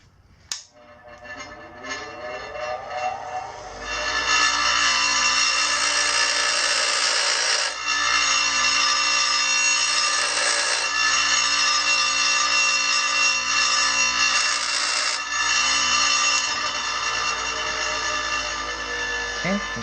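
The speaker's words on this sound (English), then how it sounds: "I'm just going to grind that one inward this way, as like a little sharp section sticking out." A power grinder working a sharp protruding section of a motorcycle fork slider on a KLX140 mini supermoto build, spinning up then holding a loud, steady high-pitched metal-on-metal whine for many seconds with small dips in pressure.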